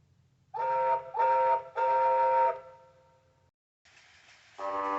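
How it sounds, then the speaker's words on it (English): A steam locomotive whistle in a model railway story gives three loud, close blasts, the third held longer. After a short gap, a second, differently pitched whistle follows. "He frantically blasted his whistle."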